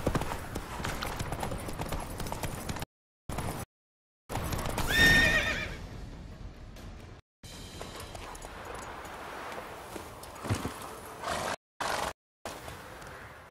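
Roach, a horse in a video game, gallops with rapid clip-clop hoofbeats and lets out a loud whinny midway, broken by short silent gaps, with game sounds underneath.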